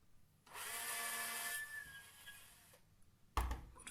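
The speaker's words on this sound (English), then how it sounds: "we're just drilling down here about 20 millimeters through the first piece" A power drill bores about 20 millimetres into a wooden piece for a spice jar holder on a workbench. It whines steadily for two seconds, then winds down, followed by a brief clunk.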